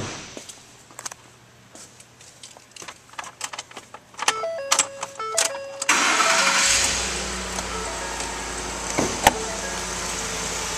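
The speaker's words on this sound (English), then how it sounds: "Now we'll go start up this truck." A 2011 Ford F-150 SuperCrew Lariat 4WD pickup with a 5.0L V8 is started up, with a few clicks and chimes before the engine cranks and catches, then settles into a steady, close idle.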